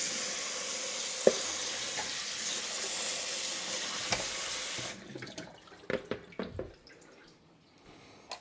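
Running tap water rinses cauliflower in a home kitchen, a steady hiss that stops midway and gives way to scattered clatters and handling knocks.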